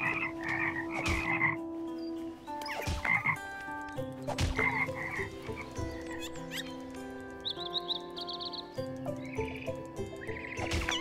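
Cartoonish frog croaks from the video game Toki Tori 2, repeated in short bursts over busy game music and chiming effects, fairly loud and close, with no talking.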